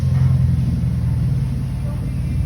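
Car fitted with a custom straight pipe single exit exhaust idling with a steady, deep low rumble that holds throughout, loud and close.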